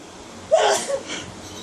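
A single sharp sneeze, close and fairly loud, followed by a brief breathy trailing sound.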